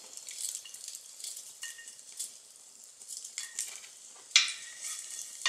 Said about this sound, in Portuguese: Enquanto o alho dá uma tostada dourada